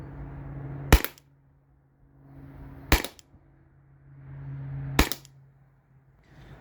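Three sharp shots from a Salt Supply S2 launcher fired at a target, evenly spaced about two seconds apart, each a loud close crack with a faint low hum between shots.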